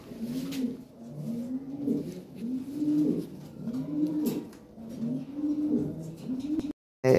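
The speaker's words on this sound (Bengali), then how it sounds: "একজোড়া জাম্বু সাইজের ব্ল্যাক লাহোরি আছে" Black Lahori pigeons coo in a repeated rhythmic pattern, close by and fairly soft, with low rolling calls following one another steadily.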